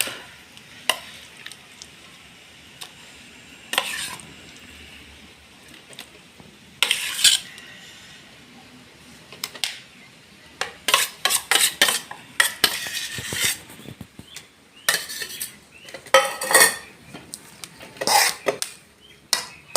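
Gongura chutney stirred with oil in a metal kadai, irregular bursts of spoon scraping and clanking against the pan between quiet stretches, with a faint sizzle and no speech.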